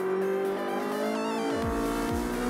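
A Ferrari race car at the Paul Ricard circuit during a Ferrari Challenge round, engine note climbing as it accelerates, with rising tonal whine and brief gear-shift sweeps, loud and close, no voices.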